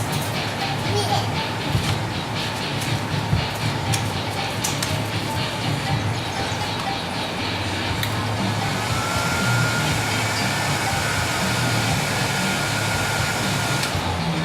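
A heat gun blows a steady, loud whoosh of hot air over an F-14D Tomcat scale model part, droning continuously throughout with a slight shift in tone partway.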